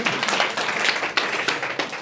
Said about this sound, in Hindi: सही जवाब है, जोरदार तालियां।